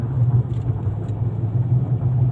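A car drives along with a steady low engine rumble and road noise, continuous and close throughout, with no other sounds on top.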